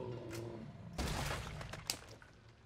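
Rapid bursts of gunfire in the horror video game Resident Evil 7: Biohazard, several sharp shots in quick succession at moderate volume, with no talk over them.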